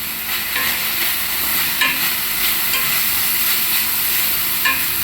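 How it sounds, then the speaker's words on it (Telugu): Turmeric dropping into sizzling tempering oil for chickpeas, a steady bright frying hiss with light stirring scrapes and a few small crackles, close and continuous with no one talking. "ఇప్పుడు కాస్త పసుపు వేసుకుందాము పోపులో."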